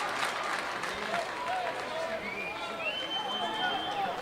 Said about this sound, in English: Round Valley crowd making some noise.